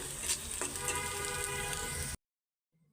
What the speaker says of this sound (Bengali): এদিকে তরকারির জন্য পেঁয়াজ বেরেস্তাটা করে নিতেছি